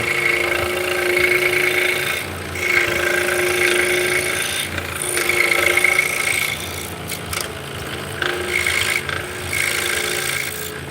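A workshop saw fitted with a fine jeweler-type blade cuts through material in a live making session, giving repeated rasping, grinding bursts separated by short pauses, close and fairly loud.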